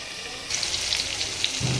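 Pumpkin and mixed vegetables frying in a pan with five-spice, a steady soft sizzle that brightens midway with scattered crackles, close and alone.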